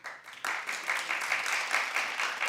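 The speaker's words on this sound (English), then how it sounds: "Clap if you would" A small audience gives scattered, moderate clapping for a few seconds, starting abruptly and holding an even, somewhat thin level without cheering.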